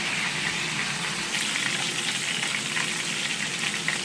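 A burger patty fries in a pan with its juices, giving a continuous bright sizzle and crackle that stays steady throughout, close and fairly loud, with no talking.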